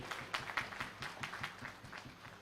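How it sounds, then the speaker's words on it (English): A small group claps in scattered, uneven applause at moderate volume. "A big round of applause to all of you."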